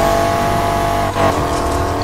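A drift car's engine in a night-time drifting game runs at a steady, loud, high-pitched whine, dipping briefly before surging again with a rush of nitrous boost.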